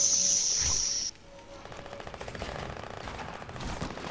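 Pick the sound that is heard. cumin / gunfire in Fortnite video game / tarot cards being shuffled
gunfire in Fortnite video game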